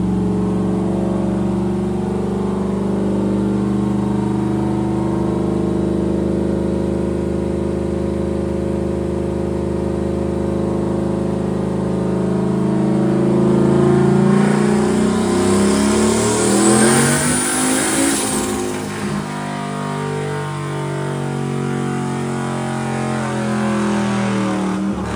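A Ford Mustang engine on a dyno drones loud and steady, then climbs in pitch through a full boosted pull before easing back down to a lower rumble.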